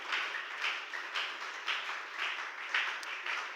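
Church congregation applauding during a sermon, a soft, distant, sustained patter of many hands clapping with gentle swells and no talk over it.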